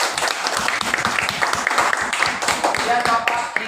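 Classroom applause from a group of students, a dense burst of close hand clapping that holds steady for several seconds, with a voice faintly mixed in.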